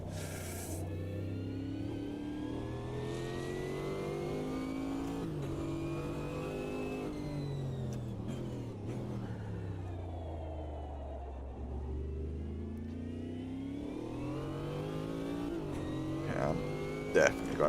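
A GT4 race car in a racing video game on the Spielberg GP circuit revs and rises through the gears with steady engine drone, pitch climbing and falling repeatedly over many seconds, while a player talks over it.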